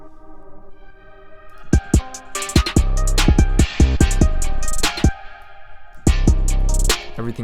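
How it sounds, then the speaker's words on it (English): Reverb in a trap beat pumps under sidechain compression, the wash ducking and swelling around punchy drum hits and deep 808 bass in a rhythmic, breathing pattern. "And it's kind of an interesting pumping effect."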